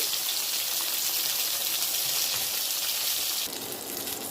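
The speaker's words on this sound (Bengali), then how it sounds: "আমি মাছ ভাজা তেলে বেগুনটা ভেজে নিচ্ছি" Brinjal slices fry in leftover fish-frying oil with a dense, hissing sizzle that stays loud and even, easing slightly toward the end.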